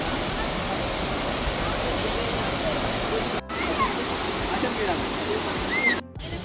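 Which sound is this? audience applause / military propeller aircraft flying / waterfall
waterfall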